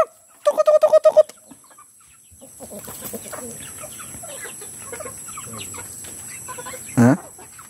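Palawan native chickens cluck in a quick burst of sharp calls, then softer scattered clucks and rustling follow. One louder squawk rises near the end.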